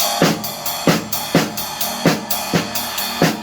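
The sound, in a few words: snare drum paradiddle exercise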